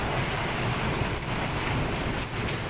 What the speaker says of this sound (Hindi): बादलों की गड़गड़ाहट सुनाई दे रही है ना आपको